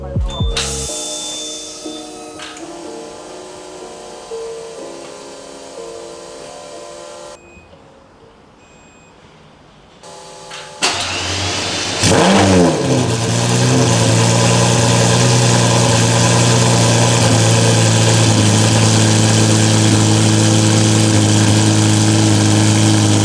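A Lamborghini Murcielago V12 engine starts for the first time, cranking after a stretch of other sound and quiet, then catching into a loud, steady, droning idle that fills the rest of the time without talk.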